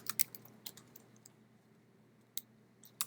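Sharp clicks of typing a command on a computer keyboard, a few quick keystrokes at the start, then a pause and a couple more near the end, close and fairly quiet over a faint low hum.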